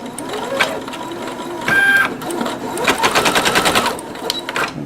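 A Singer XL550 sewing machine runs in short bursts of rapid, rhythmic stitching clatter, close and clear, pausing briefly between runs.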